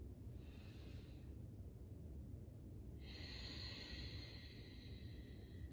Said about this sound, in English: inviting that ocean-like sound in your breath, breathing into the back of the throat